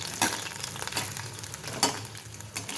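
A potato snack frying in hot oil gives a soft, steady sizzle, with a few brief clatters from a spoon stirring the pan; no one speaks.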